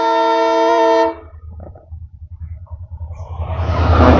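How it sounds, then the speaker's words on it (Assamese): A train passes while a loud horn blares in a steady harmonic blast for about a second, then rumbling wheels and rising rush as the train draws near, heard during a Sunday motorbike ride. "এইফালে ট্ৰেইনখন আহিছে আৰু চাউণ্ডটো শুনিছে চবে"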